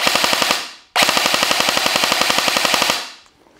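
A WELL WE01A CQB airsoft carbine fires full auto in two close, rapid bursts of sharp mechanical clicks, the first short and the second longer, with no talk over them.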